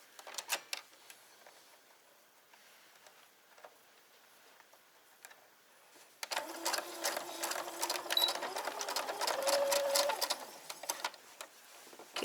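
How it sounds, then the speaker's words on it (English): A sewing machine stitches a shopping bag made from bed sheets, starting with faint scattered ticks, then running in a fast, continuous rattling whir for the second half, close and fairly loud. "so sew from the top to the base"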